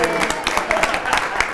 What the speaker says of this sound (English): By your applause, let's hear it for contestant B.